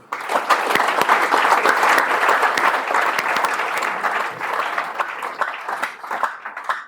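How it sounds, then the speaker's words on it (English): A crowd of university students applauds at an entrepreneurship talk, a dense, continuous wash of clapping that holds steady and then eases slightly toward the end. "Clap for yourself."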